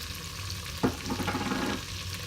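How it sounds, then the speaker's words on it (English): Minced garlic stirred into a pan of melting butter, a sharp scrape at the start giving way to a steady soft sizzle with light stirring clatter for about a second before settling back to quiet. "So I'm just going to stir in this garlic here. We're going to saute the garlic up."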